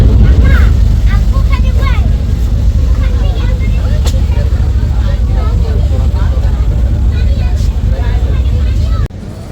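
Passenger launches race on a river as Carnival Cruise overtakes Jhanda 2. A loud, continuous engine drone and rushing water carry on under a voice, then cut off abruptly near the end.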